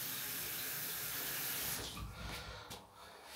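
Tap water runs into a bathroom sink in a newly built apartment, then the flow cuts off and the basin drains slowly with quiet trickles and gurgles, faint and close.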